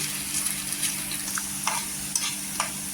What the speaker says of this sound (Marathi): तेलावर आहे ना आपण छान असं परतून घ्यायचं